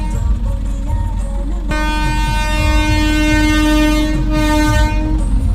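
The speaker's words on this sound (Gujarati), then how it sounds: "તો ગાઈસ બીજી રેલગાડી આવે છે, તો દેખાડું તમને" A train rolls past at close range, a steady mechanical rumble joined by a long, sustained horn blast that holds through most of the pass.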